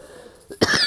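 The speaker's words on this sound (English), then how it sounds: "I have a cough." One brief close cough bursts out near the end after a quieter breathy lead-in, loud and abrupt, with no talking.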